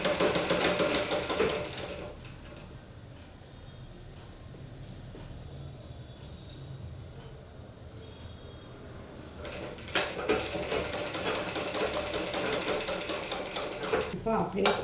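Sewing machine slowly stitching the front piece of a blouse, a steady mechanical whir that starts and stops, with a quieter spoken stretch in between.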